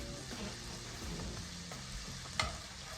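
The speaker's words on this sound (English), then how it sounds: "Add those onions in and just start to mix those around until they become translucent." Onions and garlic sauté in butter in a pan, a steady low sizzle with the scrape and shuffle of stirring, a sharp clink near the end, no voices.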